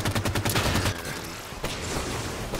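Rapid gunfire in Halo 5 Guardians Warzone Firefight strikes the player, opening with a fast burst of close automatic shots, then a dense rattling barrage that continues to the end.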